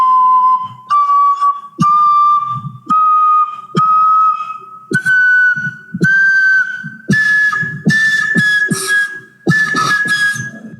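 An oja flute plays a series of separate whistled notes that step upward chromatically, each clear tone held about a second before a short gap, loud and close with no talk.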